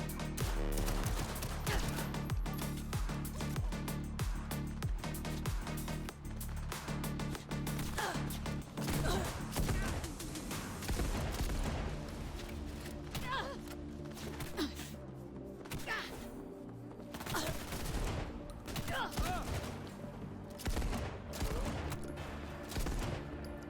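Dense gunfire from the video game Starfield, with rapid bursts and impacts layered over a loud, busy game soundscape that stays steady throughout, and no clear talk.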